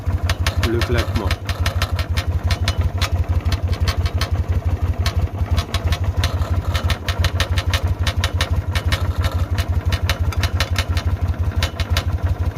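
A motorcycle engine idles with a rapid, regular clacking near the exhaust, a steady mechanical chatter over a low throbbing rumble that runs throughout, close up, with a voice heard briefly early on.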